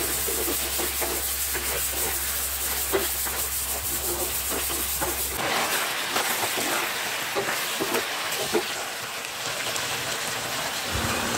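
Beef oxtail sautéing in a pan with pepper and fish sauce, a steady close sizzle and hiss throughout, growing brighter and louder about halfway through, with no talk.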